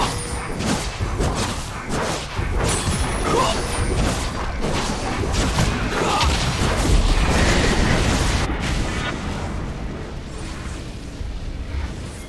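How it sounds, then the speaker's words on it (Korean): Combat in League of Legends as a turret is destroyed: heavy booms, thuds and crashing impacts pile up over dense game effects and music, loud and continuous across the whole stretch. "파랑 팀의 포탑이 파괴되었습니다."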